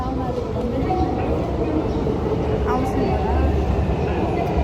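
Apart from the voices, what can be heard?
train arriving at a station in Japan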